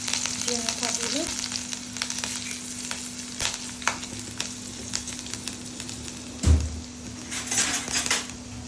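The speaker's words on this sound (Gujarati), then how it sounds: "હવે આપણે તેમાં નાખીશું લીલું મરચું ઝીણું કાપેલું" Finely chopped green chilli fries with cumin in a pan on low flame, a continuous close sizzle with scattered utensil scrapes and one dull knock near the end.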